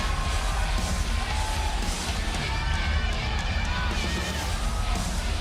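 Wrestling arena crowd at a Fatal 4-way King of the Ring event on RAW, cheering and yelling in a dense, continuous roar as a wrestler hypes them up, steady and loud throughout.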